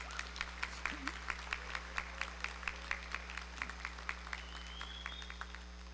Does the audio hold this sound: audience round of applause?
yes